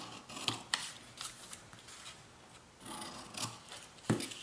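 Scissors cut card for a gift box, giving a series of close, crisp snips and rustling slices spaced irregularly across the clip, with no talking.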